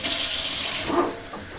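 Water runs from a tap in a steady, hissing stream while a home-brewing container for ginger lemon mead is rinsed out, then the flow thins and quiets near the end.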